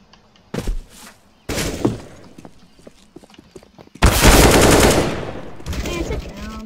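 Gunfire in Counter-Strike: Global Offensive, with scattered single shots and short bursts, then a loud sustained volley of rapid automatic fire close by, fading into further bursts; a voice speaks briefly in between.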